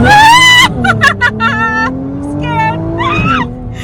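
Nissan GT-R, an all-wheel-drive car, launching hard: a loud engine roar rising in pitch with tire squeal, while people talk and exclaim over it nearby.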